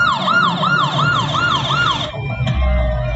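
A loud wailing ambulance siren stuck in traffic sweeps up and down in a steady repeating pattern, then cuts off as an engine rumbles nearby.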